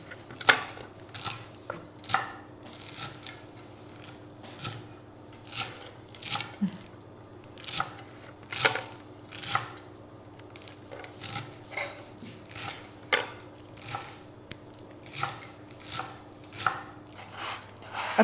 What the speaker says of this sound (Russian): Я их буду нарезать напополам.